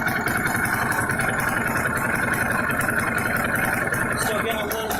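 A car engine idles steadily up close, a continuous rumbling drone with faint rhythmic ticking running through it.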